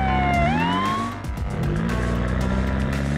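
Cartoon police car siren wailing in a falling sweep, then continuing under a steady engine-like drone and shifting tones, loud and close.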